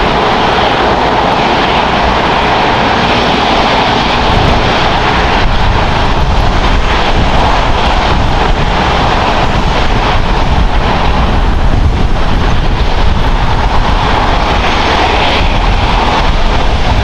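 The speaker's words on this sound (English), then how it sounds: "I'm going to increase the volume so we can listen to the A380 here." Airbus A380 jet engines at LAX airport roar loud and close, a constant, heavy, broadband rumble that holds steady without pause for the full stretch, with no voices over it.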